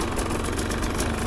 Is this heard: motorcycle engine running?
yes